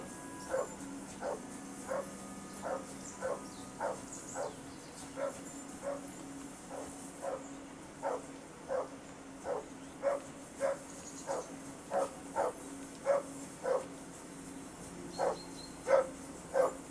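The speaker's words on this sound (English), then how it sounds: "I assume you can hear that damn dog of yours barking." A dog barks over and over in the video game Kingdom Come: Deliverance, about twenty evenly spaced single barks that grow a little louder toward the end, over a quiet outdoor hum.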